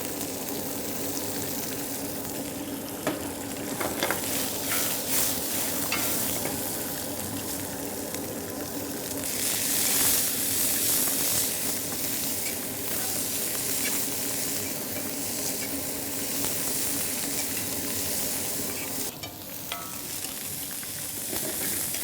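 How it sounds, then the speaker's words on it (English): Onions with slit green chilies sautéing in a pan in a hotel kitchen, a long, even, close sizzle that swells briefly partway through, with faint stirring scrapes and no talking. "So we'll leave the onions to saute some time"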